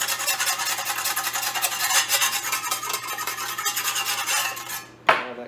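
A brush scrubs rust off the bare metal of a 1953 Chevrolet in quick, continuous scratchy strokes, close and fairly loud, ending with a sharp knock.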